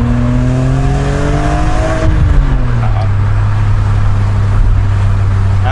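Car engine with a stainless steel exhaust, loud and steady, its revs rising then dropping back around two seconds in before settling into a constant drone, with a bright, high-pitched exhaust tone.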